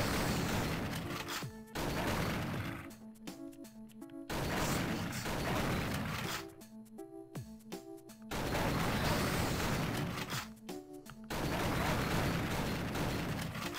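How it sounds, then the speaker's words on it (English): Repeated cannon-like shooting blasts from the Nintendo DS game Napoleon Dynamite: The Game, loud bursts in uneven clusters over a steady game soundtrack, with no talk. "it sounds like you're shooting like a freaking cannon or something"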